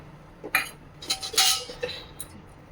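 A metal spoon clinks repeatedly against a pot of jackfruit biryani as water is spooned in, with five or six sharp, close taps at an uneven rhythm over quiet kitchen background.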